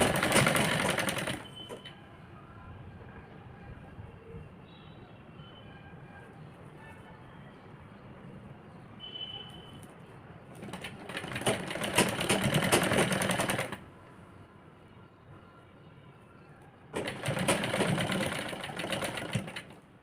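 Sewing machine stitching along the edge of a girl's crop top, loud bursts at the start and at two later points, with quieter stretches of low background noise between.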